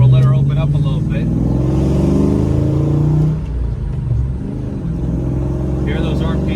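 A 1995 Ford Mustang pulls away up a road, its engine revving steadily under acceleration, with a dip in pitch around a gear change before it climbs again; the engine stays loud and close throughout.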